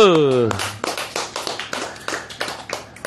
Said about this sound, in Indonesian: Jadi ya, tepuk tangan dulu.